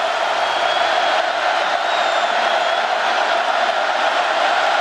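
Dense, steady roar of a large stadium crowd at a college football game between West Virginia and Norfolk State, continuous and loud with no distinct cheers rising out of the wash.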